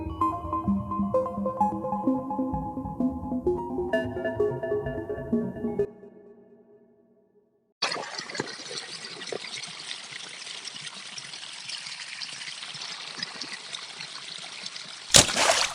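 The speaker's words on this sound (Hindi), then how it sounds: "नदी के पास आकर वो थोड़ा रुककर इधर उधर देखता है।" Water flowing in a river, a steady trickling and pouring wash that starts after a brief musical passage and a short gap, then runs loud and continuous to the end.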